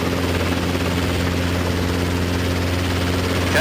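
Robinson R22 helicopter idling on the ground with engine and rotor running, a loud, steady hum and thrum that holds evenly with no break or voices.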